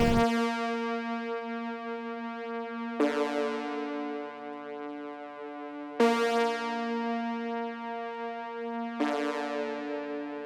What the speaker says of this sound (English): I grabbed the dual shyness preset, and then I laid down another very simple pattern that only consists of 2 notes